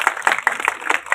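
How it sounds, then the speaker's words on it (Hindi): An audience claps at an International Women's Day event, dense scattered handclaps over a short span, fairly loud and close. "जोरदार तालियां बजाइए एक बार"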